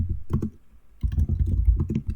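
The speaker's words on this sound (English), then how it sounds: "I was starting to type this in" Typing on a computer keyboard, a quick cluster of key presses, then a short pause and a denser run of clicks, heard close up without speech.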